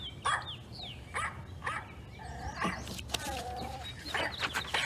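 A single dog barks and yips several times in short bursts, with whimpering tones between, fairly close and clear against a quiet background.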